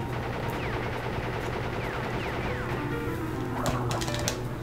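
Boss gunfire from the video game Crash Bandicoot crackles in rapid bursts over a steady game background hum, with a denser cluster of shots toward the end and no voices.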